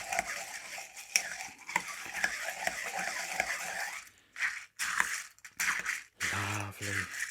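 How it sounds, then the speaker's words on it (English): Close-up stirring of crushed ice, mint and blackberry puree with bourbon in a julep cocktail: steady clinking and scraping of a bar spoon against ice and glass, broken by brief pauses and a final muffled knock. "stir the mint through the drink"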